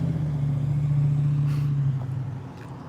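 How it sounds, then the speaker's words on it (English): A car engine idles and rumbles close by with a low steady hum, then eases off slightly as the vehicle pulls up and settles. "I heard an engine sound right when this pulled up"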